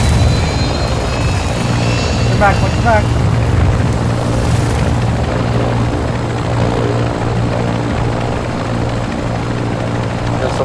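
An aircraft in Call of Duty: MW2 rumbles loudly and steadily overhead with a thumping rotor-like drone, under gunfire chatter and a player shouting briefly.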